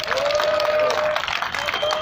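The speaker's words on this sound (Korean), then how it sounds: "큰 박수 주시고" An audience applauding at an evening political party gathering, brief scattered clapping from a crowd that is mixed with a voice and a faint sustained tone.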